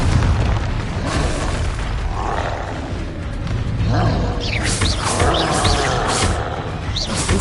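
A Confringo blasting spell explodes in Hogwarts Legacy, with deep booming blasts and rumbling bursts over a constant roaring background, loud and close, with voices mixed in.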